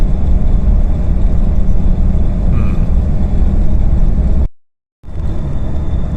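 A 2004 Dodge Ram pickup with the 5.9 Cummins diesel and an erratically shifting transmission gives a steady, loud low rumble of engine and road noise, cut by a brief dropout of silence before the drone resumes.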